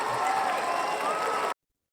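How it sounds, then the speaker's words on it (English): A short burst of group clapping and light cheering opens a podcast, steady and fairly close for about a second and a half before cutting off abruptly. "Clap it up. Clap it up."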